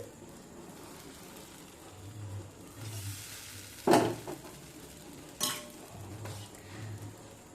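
Rice-flour roti batter spread and stirred in a hot pan gives a soft sizzle under scraping strokes, with two sharper metallic clinks of a ladle against the pan.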